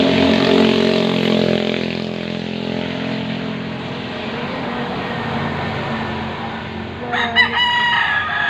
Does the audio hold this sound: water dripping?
no